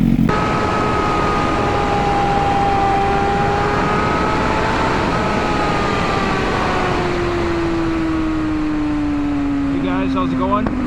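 A 2007 Kawasaki ZX6R with a loud M4 exhaust rides at speed, its engine droning in a steady high tone that rises and falls through gear changes, close and continuous under wind rush.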